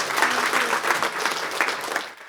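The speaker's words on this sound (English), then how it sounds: "A warm round of applause." A conference audience gives a warm round of applause for a speaker on women in investigative journalism, dense clapping at steady strength that tapers off near the end.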